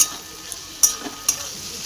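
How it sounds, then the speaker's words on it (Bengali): Chopped snake gourd and pointed gourd fry together in a pan tempered with nigella seeds and dried chilli, a soft steady sizzle punctuated by a few sharp clinks and scrapes of stirring; no talk. "আর এখানে ভেজে নিচ্ছি চিচিঙ্গা, পটল সব একসাথে কুচিয়ে"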